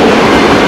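A train rolls past a railway crossing, its loud, dense rumble and rattle filling a short, steady burst close by.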